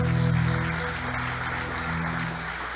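A church congregation at a Sunday service applauds in a continuous wash of clapping, with a low sustained musical tone underneath that fades after the first moments.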